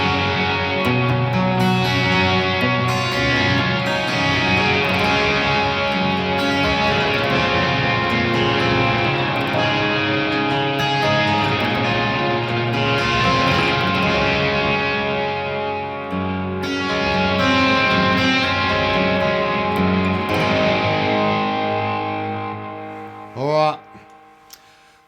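Electric guitar played through a Boss RE-202 Space Echo into a Boss Katana amp, with a sustained, slightly distorted chordal tone wrapped in chorus-like modulation and trailing delay repeats, ending in a swelling pitch-warped echo feedback.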